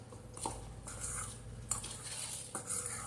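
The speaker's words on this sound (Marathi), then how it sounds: "एवढं साहित्य टाकलं सगळं हे आपल्याला मिक्स करून घ्यायचं आहे" A spoon stirs and scrapes mixed wheat-flour biscuit ingredients, including desiccated coconut and cardamom powder, in a bowl: quiet, close clinks and scrapes of metal against the bowl in an irregular rhythm, with no talking.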